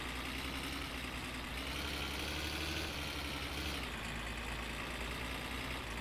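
A car engine in the driving game My Summer Car idles and runs steadily, a continuous low rumble with a rough, hissy texture that holds evenly throughout and dips slightly in pitch partway through.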